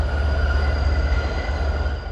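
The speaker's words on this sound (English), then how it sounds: "We got some Arrow MUs from New Jersey Transit heading for Line 2 Tunnel" A New Jersey Transit Arrow multiple-unit train rolls past at Long Island City, a steady loud rumble of wheels and car bodies with a faint high tonal whine running throughout, no voices.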